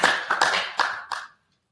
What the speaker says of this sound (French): Est-ce qu'on peut applaudir très fort pour le Seigneur de gloire?